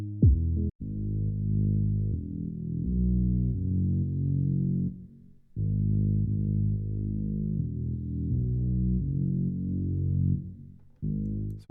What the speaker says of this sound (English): So here we have bass.